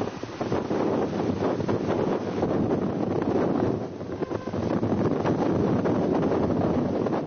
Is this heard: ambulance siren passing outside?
no